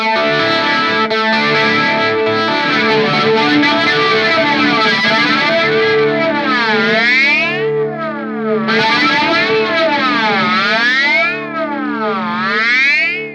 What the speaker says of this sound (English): regen is that sound you get that kind of makes it go really weird and kind of a bit toppy